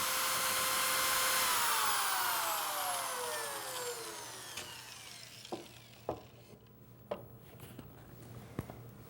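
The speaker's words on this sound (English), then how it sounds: "Let the sanding drum do the work." An electric drill fitted with a sanding drum sands a wooden pattern edge on a bench, its high motor whine falling steadily in pitch as it loads down, then fading to quieter rubbing with a few sharp knocks and taps.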